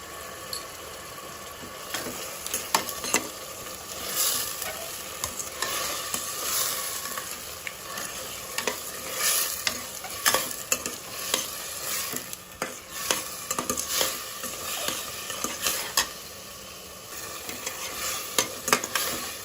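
Tomatoes cooking in oil in a pan for chicken dum biryani, a close, steady sizzle punctuated by frequent scraping stirs and clinks of a spoon throughout, with no talking.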